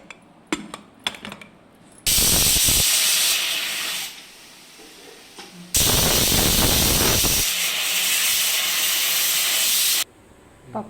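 Pressure cooker with dal and onion whistling, two long loud blasts of hissing steam of about two and four seconds, separated by a quieter spell of softer hissing, with faint clatter before the first.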